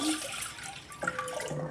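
Water runs steadily into a bowl while Maggi noodles are being prepared, a close, continuous splashing pour with a faintly shifting pitch as the bowl fills.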